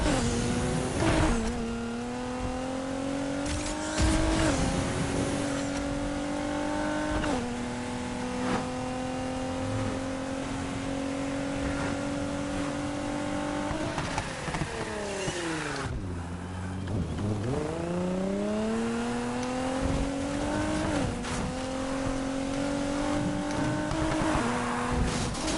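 A stock car engine in a racing video game revs and climbs through the gears, dipping and rising again, with brief tire squeals over a loud, continuous engine drone.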